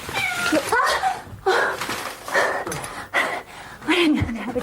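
A cat meows and caterwauls repeatedly up close, several drawn-out, wavering cries in a row with short pauses between them.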